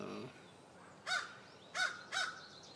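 Three loud, clear crow caws ring out in a morning outdoor setting, the first alone and the last two close together, with no voices.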